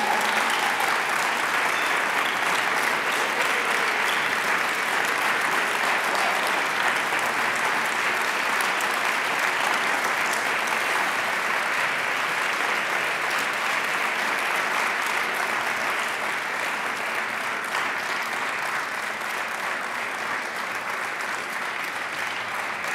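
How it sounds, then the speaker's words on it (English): Sustained, dense audience applause at a lawyers' congress closing ceremony, honoring two award laureates including a Cameroonian anti-death-penalty lawyers' network; steady, loud and even throughout, with no talk over it. "as we applaud them"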